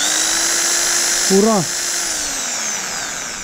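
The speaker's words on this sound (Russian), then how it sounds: "Подключаем дрельку." An electric drill powered through a home solar power station's inverter runs with a steady high whine, then briefly revs up and down, while a person gives a short cheerful shout over it.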